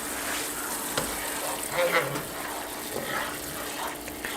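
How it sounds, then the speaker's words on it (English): Lemon and olive oil sauce simmers in a pan alongside chicken paillard, giving a continuous close sizzle and bubbling with a few louder spits and stirs. "Just gonna let it simmer here for a second"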